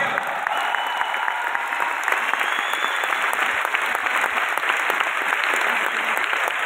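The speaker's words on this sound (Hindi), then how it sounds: "हमारे ब्रॉन्ज डायरेक्टर्स के लिए बहुत ज्यादा जोरदार तालियां" A large crowd at an awards function claps loudly and continuously for bronze directors being honoured on stage, a thick even roar of hands with no letup, heard on its own.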